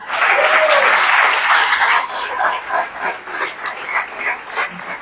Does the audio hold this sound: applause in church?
yes